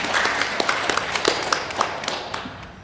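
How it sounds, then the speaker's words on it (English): Applause from the audience at a state farm bureau convention discussion meet, a moderate crowd clapping in a thinning patter with a few sharper individual claps that stand out close by. "Let's give all of them a round of applause."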